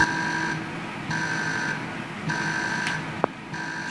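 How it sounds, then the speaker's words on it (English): An electronic alarm beeps in repeated on-off pulses, each lasting about half a second, with a short sharp click near the end. "Did you hear an alarm?"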